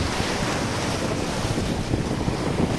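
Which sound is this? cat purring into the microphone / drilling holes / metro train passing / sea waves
sea waves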